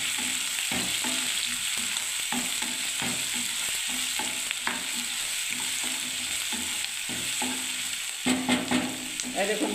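Garlic paste and chopped onion sizzle steadily in hot oil, with a constant bright hiss and repeated clicks and scrapes of stirring, loud and close throughout.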